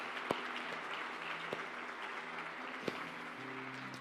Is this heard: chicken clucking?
no